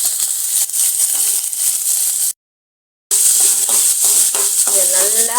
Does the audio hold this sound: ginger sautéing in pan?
yes